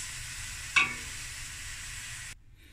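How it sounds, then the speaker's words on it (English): Big prawns flash frying in a hot pan give a steady broadband sizzle with a brief louder hiss as they hit the oil, then the sound cuts to a faint background. "next I'm going to flash fry the big prawns"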